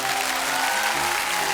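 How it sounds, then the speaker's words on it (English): A short burst of audience applause, dense steady clapping sustained without pause and no voices standing out. "I think old Buzz deserves a round of applause here."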